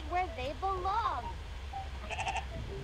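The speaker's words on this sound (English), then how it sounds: "Look at the nice sheep family." In the video game Amanda the Adventurer, a sheep family bleats in wavering calls close by, over a steady low background hum, with a short repeated pulsing call near the end.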